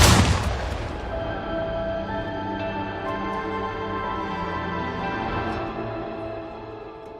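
Gunfire in an action film, an initial loud shot or blast ringing out and then a long sustained rumble with a tonal reverberant tail that slowly fades over several seconds, with no voices heard.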